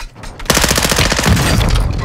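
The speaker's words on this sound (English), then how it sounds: "You are taking effective fire." Rapid automatic gunfire in a military shooter video game, a dense burst of repeated shots starting abruptly and continuing loud and close with heavy echo, no voices over it.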